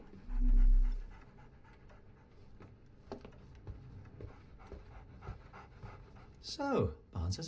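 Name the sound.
dog panting, in the Sherlock Holmes video game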